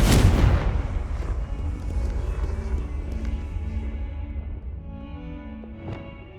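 A Confringo spell explosion in the video game Hogwarts Legacy: a heavy booming blast at the start, then a long rumbling decay with ringing tones, no talking.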